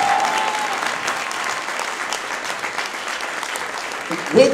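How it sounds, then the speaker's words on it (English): A live audience applauds Dame Linda Dobbs at a UK event, steady dense clapping held for the full stretch, with a brief louder swell near the end and faint voices underneath. "We can keep the round of applause going"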